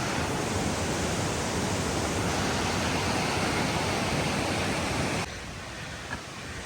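Waterfall on a forest trail near Pune roaring as a dense, steady rush of falling water, then dropping suddenly to a quieter wash near the end.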